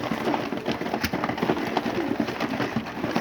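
Pigeons in a loft coo softly amid constant fluttering, shuffling and flapping wings, an indoor, busy flock heard close up during feeding.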